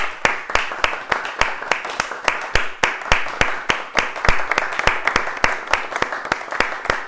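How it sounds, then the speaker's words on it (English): An audience at a Srimad-Bhagavatam reading claps at the end of a chapter, a close, quick and even run of sharp hand claps that continues for several seconds. "So we clap after every chapter"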